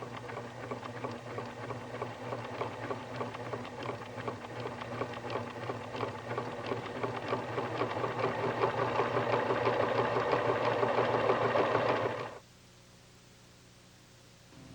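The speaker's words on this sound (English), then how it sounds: "As you sew, increase the stitch width up to 6 millimeters." A Pfaff Expression sewing machine sewing a satin-style stitch as the width widens, a steady close buzzing whir with fast needle rhythm for about twelve seconds, then stopping abruptly into quiet hum.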